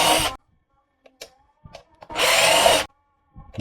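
Xenon cordless drill boring into iron, with two loud bursts of whirring and grinding and quiet clicks and taps between them.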